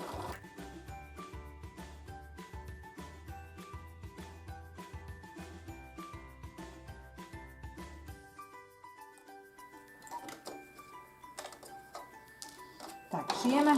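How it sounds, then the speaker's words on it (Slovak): A sewing machine stitches a doll's sweatshirt, running in a fast steady chatter for about eight seconds and then stopping, followed by quieter handling clicks and rustles while people talk softly. "Tak, šijem až skoro do konca"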